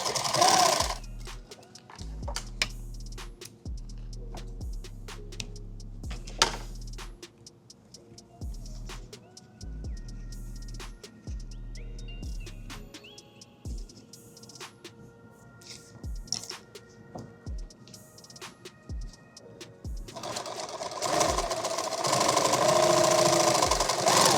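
A sewing machine stitches shoulder strap keepers for a magazine war bag, running in short rhythmic bursts of rapid mechanical thumping with pauses between, then a longer brighter whirring stretch near the end.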